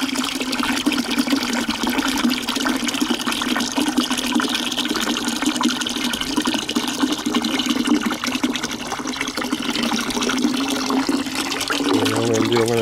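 Steady, continuous rush of about 2.5 gallons of water pouring into a bucket, loud and close, with a slight change in tone near the end.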